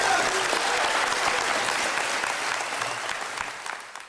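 A room applauds after a city's unanimous vote returning Tuluwat land to the Wiyot, a steady wash of clapping that slowly fades away toward the end.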